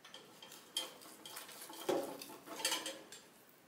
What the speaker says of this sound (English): My meat is done, and now we're going to slice it.